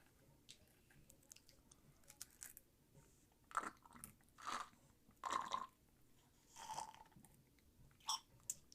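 A crunchy veggie straw snack being bitten and chewed close up, several distinct crunchy bites in uneven succession against a quiet background, with no talking.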